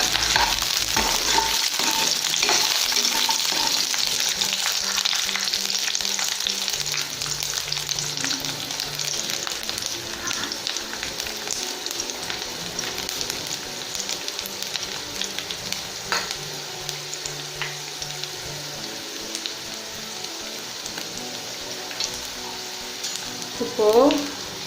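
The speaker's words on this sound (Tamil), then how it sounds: "அடுத்தது நான் பூண்டு சேர்க்க போகிறேன். பூண்டு கொஞ்சம் வதங்கட்டும்." Garlic sizzles steadily in a hot pan for tomato chutney, a continuous crackling fry with occasional stirring, fairly close and moderate in level.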